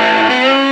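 Electric guitar played through a Mooer Solo distortion pedal, a single loud, thick sustained distorted chord ringing out alone for under a second.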